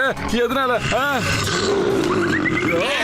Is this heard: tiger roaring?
yes